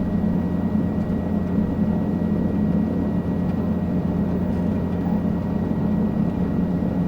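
Steady, loud helicopter rotor and engine drone from inside the cabin on a Brazil heli-tour from a private heliport over beaches, continuous throughout with no talk.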